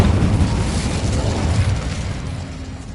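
An Incendio fire spell bursts in Hogwarts Legacy as a loud, rumbling whoosh of flame that swells at once and tapers off slowly, with no voices over it.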